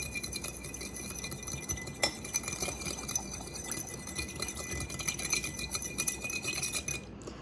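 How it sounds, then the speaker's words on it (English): A spoon stirs a vinegar and salt solution in a glass, giving faint, quick repeated clinks and scrapes against the glass over a steady background hiss. "So let's go ahead and stir."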